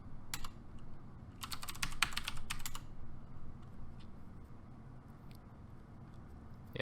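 Someone types a terminal command on a computer keyboard in a quiet room, with a few quick clusters of crisp, close key clicks and a faint background hum.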